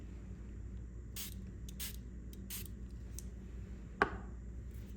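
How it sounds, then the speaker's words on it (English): Several short hissing spritzes from a small water spray bottle activating watercolor paint, spaced apart, followed by a single sharp tap, over a steady low background hum. "I'm gonna activate these guys with our little spray bottle"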